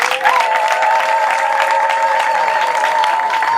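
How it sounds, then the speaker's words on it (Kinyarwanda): Guests at a wedding ceremony ululating together, a sustained high trilling chorus layered with crowd clapping and cheering, loud and continuous throughout. "mwongere muvuze impundu"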